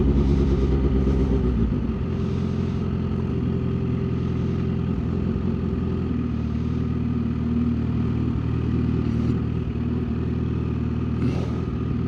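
A Kawasaki Ninja H2 motorcycle engine runs steadily nearby in traffic, a continuous loud mid-pitched drone with slight throttle changes and no talk.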